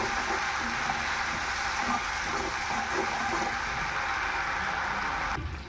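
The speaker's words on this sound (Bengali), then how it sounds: "মশলাটা অল্প করে কষে নেব" Spice paste of onion, mustard, green chilli paste, salt and turmeric frying in oil in a pan, a steady close sizzle holding evenly throughout and dropping away abruptly at the very end.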